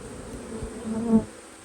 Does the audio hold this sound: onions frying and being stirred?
no